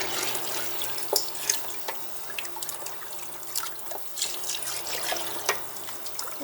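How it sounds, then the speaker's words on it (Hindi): Water pours steadily from a tap into a cooking pot over lentils for Pakistani haleem, a close, continuous splashing trickle with small bursts, no talking. "अब इसके ऊपर आपने इतना पानी ऐड करना है कि सब"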